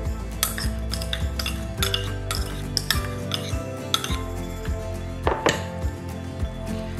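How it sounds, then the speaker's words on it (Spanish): A utensil scrapes and clinks against a bowl while corn salad is mixed, making a steady, busy clatter of close metallic taps and knocks with a few sharper strikes. "Se lo mezcla."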